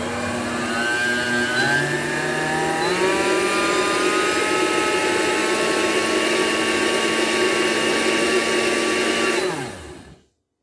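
A blender or electric mixer whirs continuously as it blends sourdough crepe batter, loud and steady for about nine seconds before winding down and stopping.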